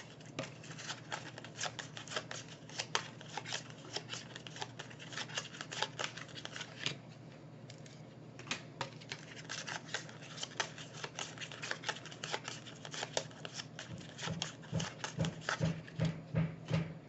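Tarot cards are shuffled steadily for a reading, a long run of quick, crisp riffling and flicking that continues without pause, close and moderately loud, with a brief lull midway and faint rhythmic knocking near the end.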